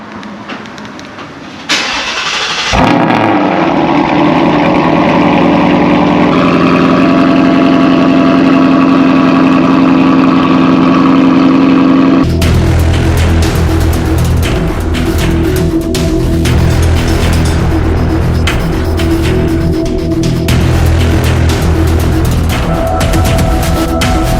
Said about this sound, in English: this will be the first official starts on E85.